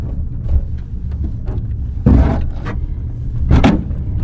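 Low road rumble inside a lowered Seat Arosa on static suspension, broken by two loud scraping thuds as the underside hits a speed bump, close and harsh.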